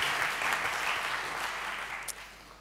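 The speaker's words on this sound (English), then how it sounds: "big round of applause" Applause from a conference crowd at a programming event, a steady wash of many hands clapping at moderate volume, easing slightly toward the end.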